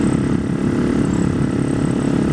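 A Husaberg motorcycle engine runs steadily at a loud, even rumble, close by and unbroken, with no voices over it.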